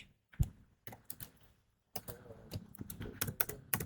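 Keys on a computer keyboard clicking in sharp, irregular bursts up close, a few isolated presses and a short pause followed by a denser run of typing taps.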